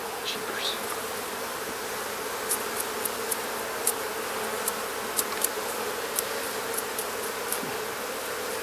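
A dense, steady drone of honey bees fills the air while honey is harvested from the hive, with scattered light clicks and ticks from close by.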